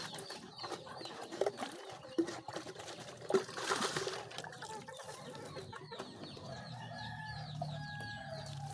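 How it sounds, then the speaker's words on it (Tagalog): Pet chicks and chickens at a farmyard feeding spot peep and cluck in scattered bursts, with a few louder calls standing out against soft background noise and a steady low hum later on. "Naririnig nyo po ang ating mga alagang sisiw, nag-iiyakan na po para kumain sila."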